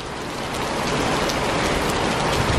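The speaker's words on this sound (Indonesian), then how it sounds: "Ih, hujan kayak gini gimana?" Heavy rain pouring down outside an airport terminal, a dense, loud, continuous hiss of drops hitting the ground and surfaces at close range, with no talking.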